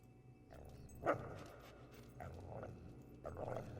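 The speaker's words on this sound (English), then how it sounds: "My dog's growling." Dog in Fable II making a few low growls and short yips, quiet and intermittent over soft game ambience.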